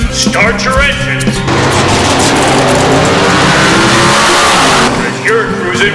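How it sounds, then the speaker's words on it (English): Classic car and hot rod engines rev loudly and roar at close range, a sustained throaty rumble that swells and holds at a car cruise, with faint voices and music-like tones at the start and end. "start your engines"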